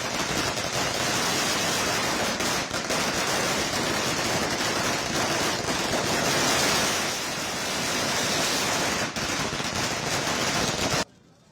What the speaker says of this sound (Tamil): தொடர்ந்து பட்டாசு வெடித்து தூய்மை தொழிலாளர்கள் மகிழ்ந்து வருகிறார்கள்